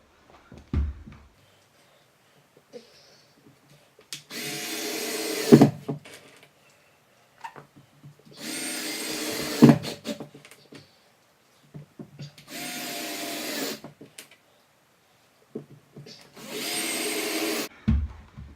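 A power drill drives screws into cement backer board for a kitchen floor remodel, four separate loud whirring bursts of a few seconds each, with quiet gaps and scattered handling knocks between them.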